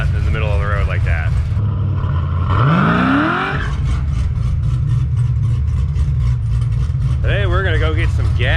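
LSA-engined Chevrolet Monte Carlo on its first test drive after three years, its engine droning loud and steady from inside the car with one rising rev sweep as it accelerates, while a voice and music play over it.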